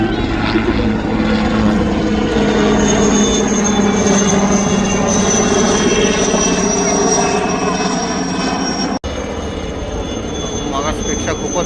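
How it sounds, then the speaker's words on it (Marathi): A helicopter flies over an air show in Nashik, its rotor and engine giving a loud, continuous drone that stays close throughout and briefly cuts out once near the end. "हेलिकॉप्टरची एक झलक बघायला मिळाली आपल्याला आल्या आल्या."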